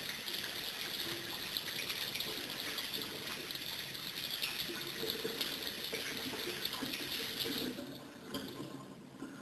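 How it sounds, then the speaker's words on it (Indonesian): Running tap water steadily splashing over hands being rinsed during handwashing, a constant close hiss and patter that thins slightly near the end. "Dibilas dengan air mengalir."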